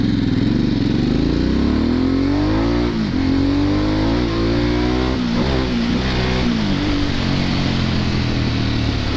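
Harley-Davidson Sportster S motorcycle engine running under way, a loud, steady mid-pitched roar with rising and falling revs as the rider shifts and accelerates, continuous and close throughout.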